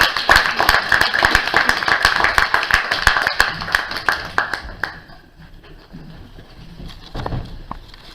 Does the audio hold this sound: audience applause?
yes